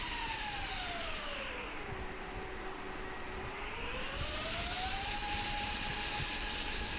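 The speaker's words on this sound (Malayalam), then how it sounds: "ജെറ്റ് പാക്കിന് അത്യാവശ്യം നല്ല സ്പീഡുണ്ട് ഗൈസ്" Jet pack in the Indian Bike Riding 3D video game gives off a steady, loud whooshing whine that dips in pitch, holds low, then climbs back up, continuous with no talking.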